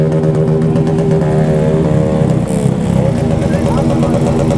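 A clean motorcycle's engine runs steadily and loud throughout, with a continuous droning hum while people talk over it.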